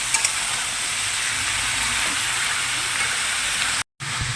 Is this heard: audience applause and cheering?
no